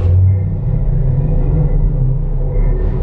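Epcot's Space 220 hydrolator ride gives off a deep, steady rumble with a low mechanical drone throughout, loud and close, with no talking.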